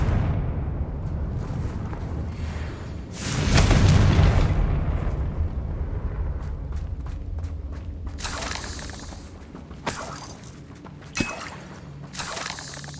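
A Confringo spell explosion in Hogwarts Legacy, a loud booming blast early on that fades into rumble, then scattered crackles and sharp impacts of combat.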